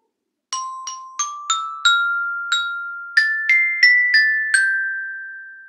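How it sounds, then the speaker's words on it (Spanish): A children's song melody tapped on a xylophone, eleven bright ringing strikes in a simple rising tune, each note decaying slowly, played alone and close. "pero con el xilofón."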